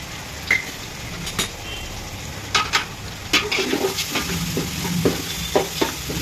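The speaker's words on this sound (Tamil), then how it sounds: "இது நல்லா வதங்கட்டும். நல்லா சேர்ந்தாப்புல வதங்கி வரட்டும்." Onions sizzle steadily in a hot pan, with occasional scraping and clinking as they are stirred, close and continuous.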